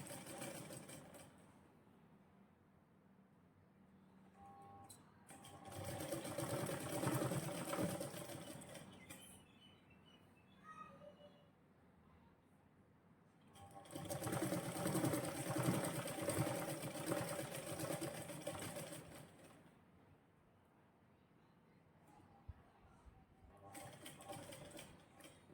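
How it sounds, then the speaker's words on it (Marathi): A sewing machine stitches a shoulder-to-waist dart in a blouse, running in two long bursts of steady whirring and then a short third burst. Quieter pauses fall between the runs. "इथून बरोबर मी अर्धा इंचावरून शिलाई घेणार आहे"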